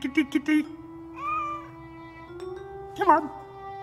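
Cartoon cat meowing in an animated Mr Bean episode, a few short close meows followed by longer drawn-out mewing calls, with a faint steady tone in the background.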